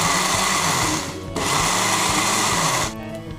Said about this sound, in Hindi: अब इन सब चीज़ों को मैं अच्छे से मिक्सर ग्राइंडर में ब्लेंड कर लूँगी।